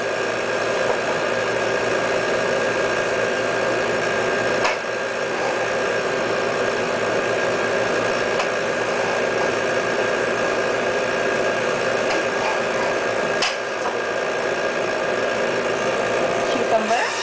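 A juicer machine grinds through apple and green vegetables such as cucumber with a steady, loud motor whir and rattling vibration, briefly dipping twice as pieces are fed in.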